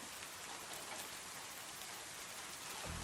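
Steady rain falling in a dense, even hiss that fills the whole stretch without letup, with no voices over it.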